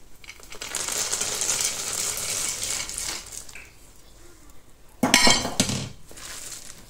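Peanuts stirred into hot caramel in a pan for nougatine, giving a sustained gritty scraping and rattling, then a sharp louder clatter of utensil against the pan near the end.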